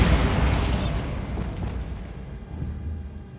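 A Bombarda blasting spell goes off in the Hogwarts Legacy game, a heavy booming explosion that hits loud at once and then rumbles and fades over a few seconds.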